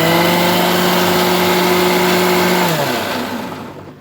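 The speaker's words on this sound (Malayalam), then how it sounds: "ഇനി നമുക്ക് വെള്ളം ഒഴിച്ച് അരച്ചാൽ നല്ലോണം അരച്ചെടുക്കാൻ പറ്റും" A mixer grinder grinding coconut with added water into a smooth paste for pineapple pulissery, a loud continuous motor hum that holds steady, then drops and fades as the machine stops.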